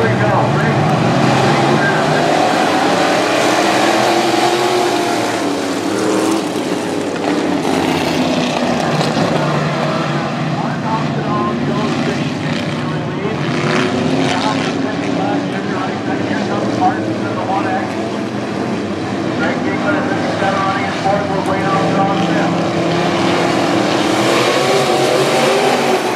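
Vintage race cars run the A-main at Fiesta City Speedway, a continuous loud roar of engines rising and falling as cars pass, with a voice over a loudspeaker partly audible beneath.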